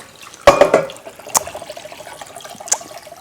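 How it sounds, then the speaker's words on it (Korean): Broth is poured around the edge of a bowl of Korean cold soup, giving a short liquid splash followed by soft trickling and a couple of faint drips, close and fairly quiet. "육수를 부을까요? 네 부어주세요 선생님. 위에다 부나요? 옆에 이렇게 가장자리로?"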